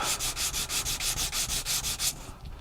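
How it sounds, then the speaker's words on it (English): Rhythmic sanding strokes as a wooden part of a 1/84 scale HMS Victory model is rubbed up and down at an angle, about a dozen even, close passes before stopping. "hold it at an angle and then rub it up and down and get this sanded through rather nicely"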